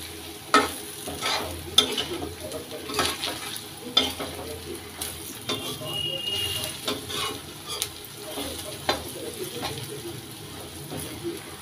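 Kundru (ivy gourd) sabzi being stirred with masala in a pan, with repeated spatula scrapes and knocks over a low, steady sizzle, close and moderately loud throughout.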